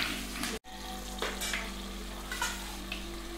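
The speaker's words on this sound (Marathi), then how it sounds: "आता हे छान 1 मिनिटभर आपण तळून घ्यायचं आहे" Tempering spices with green cardamom fry in hot oil for a large three-kilo batch of vegetable pulao, giving a steady close sizzle with occasional stirring scrapes and a brief dropout near the start.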